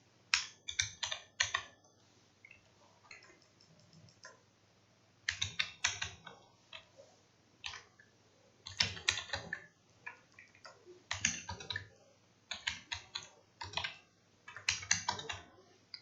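Python code is typed on a computer keyboard in quick clattering bursts of keystrokes separated by short pauses, close and clear with no speech.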